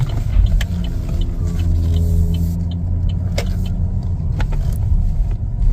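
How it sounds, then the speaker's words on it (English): A 2025 Chevrolet Trailblazer AWD LT backs up at low speed, a steady low engine and road rumble from inside the cabin with a few small clicks and rattles, no talking. "Gonna find a little spot here to back up."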